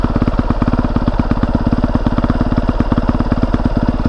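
A 2020 Honda CRF450R dirt bike engine idles while warming up, a close, steady, rapid-firing thump with an even rhythm that holds at a constant level throughout.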